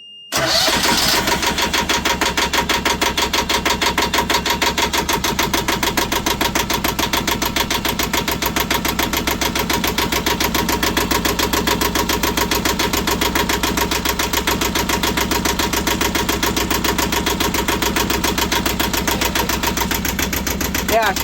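Right after a fuel filter change, an engine cranks briefly and catches, then runs loud and steady at an even, buzzing idle for about twenty seconds, close up.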